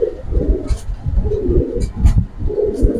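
Pigeons kept for sale, including Giribaz breeds, coo in low, throaty pulses close by, several birds overlapping in a steady rolling rhythm with a few short higher chirps.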